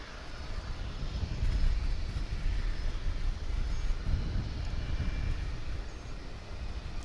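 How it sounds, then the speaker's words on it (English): A Boeing 777 arriving at Dallas Fort Worth International Airport after a long-haul flight, its jet engines a broad, steady roar that swells to a peak and then holds as the plane passes fairly close. "777 coming in to us."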